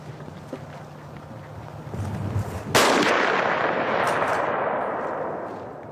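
A single rifle shot is fired at game during a driven hunt, a loud sharp crack with a long rolling echo that fades slowly across open ground, with wind noise around it.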